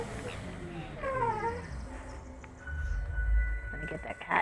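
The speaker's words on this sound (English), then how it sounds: "Let me get that cat." A cat meows in the video game South Park: The Fractured but Whole, a few short, rising and falling cries mixed with other game sounds and a low rumble, with some talk around it.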